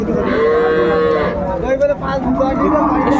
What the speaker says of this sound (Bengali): ছয় দাঁত শাহিওয়াল জাতের গাভী বাছুর আমরা দেখছিলাম